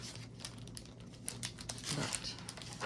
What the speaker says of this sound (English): So loud, crinkly paper.